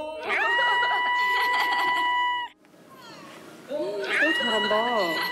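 A young woman imitates a cat with two drawn-out, high meows separated by a brief pause, loud and close, with light background chatter between them.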